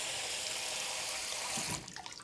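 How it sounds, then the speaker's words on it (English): Cold water runs steadily from a kitchen tap for soaking dried seaweed, a close, bright hiss that cuts off near the end into a few faint drips and splashes. "Let's soak in cold water."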